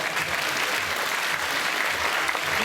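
A crowd at a town singing contest in Bain de Bretagne applauds steadily, a dense, even wash of clapping throughout the short stretch.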